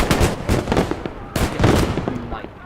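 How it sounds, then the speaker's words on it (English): Repeated battlefield blasts from grenades in the Call to Arms game, a rapid string of loud explosive thumps and cracks in quick succession, with a voice speaking over them. "It was outright grenades."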